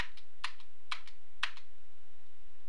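Computer keyboard keys are pressed while editing data in a hex editor: a handful of crisp, close clicks in a short, irregular burst, followed by quiet.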